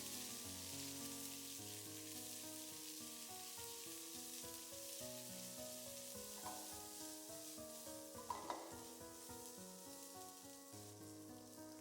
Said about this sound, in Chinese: 小火翻炒一下。